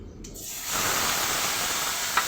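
A spice mix sizzling as it hits cumin seeds frying in hot oil, a sudden broad hiss that swells in after a brief quiet start and holds steady, close and moderately loud.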